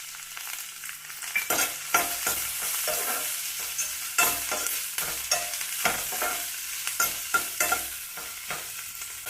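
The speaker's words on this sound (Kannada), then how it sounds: "ಒಂದು ನಿಮಿಷ ಚೆನ್ನಾಗಿ ಈ ಥರ ಫ್ರೈ ಮಾಡ್ಕೊಂಡಿದ್ದೀನಿ" Onion and curry leaves fry in hot oil with a steady broadband sizzle, punctuated by repeated scraping strokes as they are stirred in the pan, close and fairly loud with no voices.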